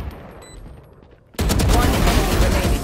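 Pistol gunfire in the video game Valorant erupts suddenly after a quiet lead-in, forming a loud, dense burst of shots that carries on to the end.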